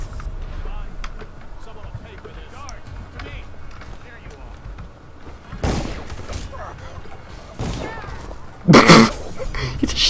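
A single gunshot rings out in a Western-style multiplayer shooter set in back alleys, a sharp broadband crack near the end following a few quieter bangs, over steady game ambience and chatter.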